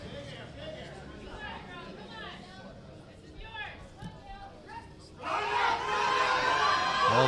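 A powerlifting meet crowd erupts into loud screaming and cheering, building suddenly after quieter chatter and an announcer's voice talking over the hall.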